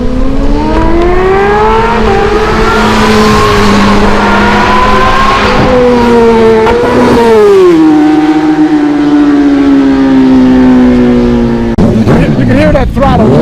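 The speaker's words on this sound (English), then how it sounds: "my good buddy Sean did a nice clip of him ripping down the front straight on the Ninja H2" A Kawasaki Ninja H2 motorcycle screams down a racetrack's front straight, its engine note climbing through several loud, close gear pulls with brief dips at each shift.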